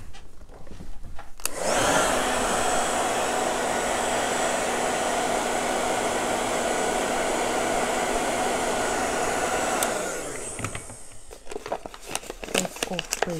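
A hair dryer blows steadily for about eight seconds at close range, drying an air dry clay vase for dry plants, then switches off, leaving faint handling clicks and rustles.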